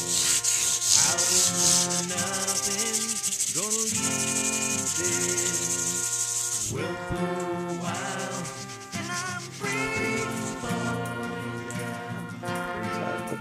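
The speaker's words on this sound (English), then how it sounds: "A very light polish of the top of everything." Light hand polishing across the frets of a black Stratocaster-style guitar during a fret dress, producing continuous close rubbing strokes with soft squeaks, loud and steady throughout.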